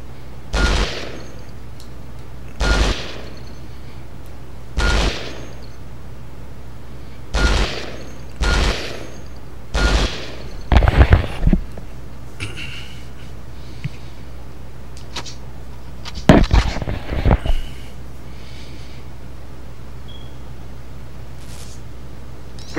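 Assault rifle fire in Conflict: Global Terror on PS2 during a training exercise: evenly spaced single shots ring out one by one, then two short clustered bursts, each crack sharp and loud against a quiet hum.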